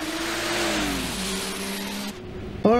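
A car engine revving and accelerating during a police chase of thieves in the 1995 animated film Ghost in the Shell, a steady loud mid-pitched drone that shifts pitch, then a brief sharp rising whine near the end.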